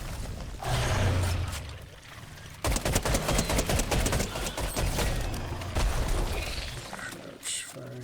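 Gunfire in the Fortnite video game, close bursts of rapid shots crackling in clusters over several seconds with pauses between volleys and some low booms, mixed with game ambience.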